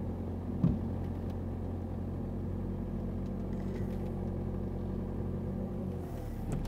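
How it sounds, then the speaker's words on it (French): A car idles and creeps slowly in reverse at the clutch's biting point while parking, a low steady engine rumble heard from inside with one faint knock near the start. "je continue à reculer très doucement au point de patinage et je braque mes roues pour rentrer dans la place"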